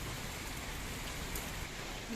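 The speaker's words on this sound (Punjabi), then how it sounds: "ਹੁਣ ਹੋ ਗਏ 2 ਘੰਟੇ ਮੀਂਹ ਪੈਂਦੇ ਨੇ" Constant, even monsoon rainfall in Punjab hisses softly and steadily, with no voices and no change in intensity.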